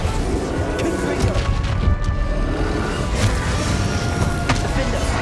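Explosive spell blasts from Bombarda and Confringo in a Hogwarts Legacy battle, repeated crashing booms and impacts in dense, loud succession, mixed with a voice speaking over the fight.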